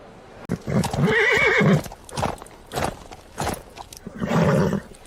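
A spirited horse neighs loudly and close, a long whinny followed by snorts and the clip-clop of hooves, then another neigh.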